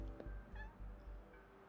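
A cat in the video game Wuthering Waves gives a couple of short meows over a low droning game soundtrack, soft and close.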